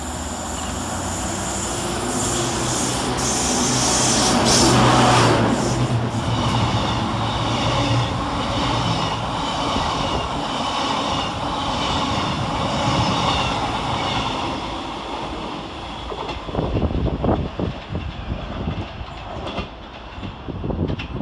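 A Class 92 electric locomotive, 92033, arrives at Motherwell railway station hauling the Lowland Sleeper. A loud, close rumble swells and passes, then fades into rattling wagon clatter and brief metallic clanks.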